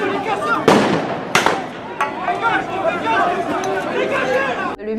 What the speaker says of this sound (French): des CRS lancent 6 grenades lacrymogènes